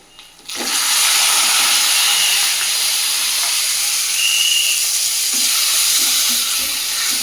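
Brinjal chutney drops into hot golden oil in a pan and bursts into a loud, close sizzle that holds steady and bright to the end, with faint stirring knocks.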